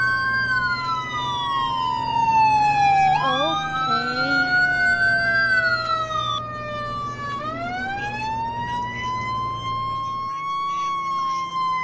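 A loud wailing ambulance siren in a Roblox game sweeps up and down in pitch, rising and falling repeatedly over a low engine rumble.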